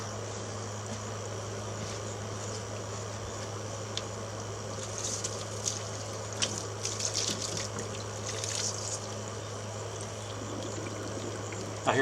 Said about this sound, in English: Let's fill up the pump with some water.